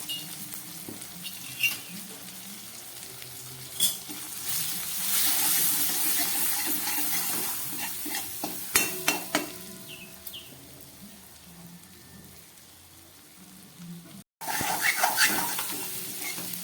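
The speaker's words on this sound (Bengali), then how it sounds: "লঙ্কা জিরে ধনে দিয়ে মশলাটা একটু ভাজা হয়ে গেছে।" Chili powder, cumin and coriander spices frying in a pan for a Bata fish curry, giving a steady low sizzle with occasional stirring scrapes and clinks, fairly quiet and close, with no talking.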